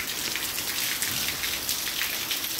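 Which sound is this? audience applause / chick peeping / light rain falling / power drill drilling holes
light rain falling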